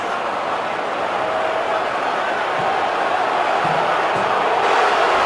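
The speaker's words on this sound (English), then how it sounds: "Well, the crowd doesn't like the spot." A large stadium crowd at an NFL football game between the Baltimore Ravens and Pittsburgh Steelers roars and boos in a steady, dense wash of noise that swells slightly toward the end, with faint voices underneath.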